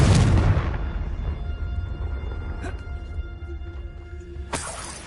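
A Confringo blasting spell goes off in Hogwarts Legacy with a loud, close explosive burst that rings out and fades over several seconds, followed by a sharper crack near the end.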